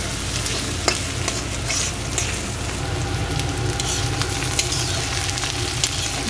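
Onion, garlic and green chilli fry in oil for a Bengali dried-fish dish, a dense close sizzle punctuated by repeated sharp clicks and scrapes of a spatula stirring the pan, with no one talking.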